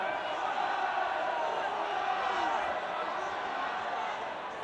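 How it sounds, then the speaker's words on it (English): A rugby stadium crowd at a Scarlets match keeps up a steady, low murmur and burble throughout, with a voice talking over it. "you can hear the crowd starting to murmur and burble and bubble behind them"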